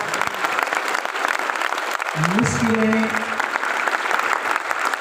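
Audience applause at a pearl achievement celebration event, dense continuous clapping filling the whole stretch, with a voice and tonal music rising partway through.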